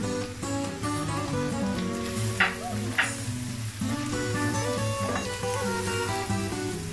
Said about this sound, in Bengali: সামান্য একটু ভেজে নিচ্ছি